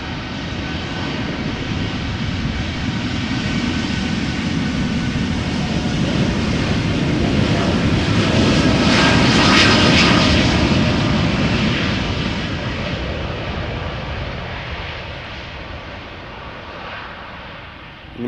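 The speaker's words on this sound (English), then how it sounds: "United. Flight 908. Rotating and leaving" A United airliner, flight 908, rotates and takes off at Amsterdam Schiphol with a loud jet-engine roar that builds to a peak midway and then slowly fades as it climbs away, with no talk.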